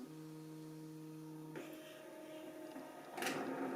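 Nozzle motor of a Bio Bidet Aura A7 smart bidet seat extending: a steady electric whine and hum that shifts pitch partway through, then a brief louder mechanical burst near the end, close and fairly quiet.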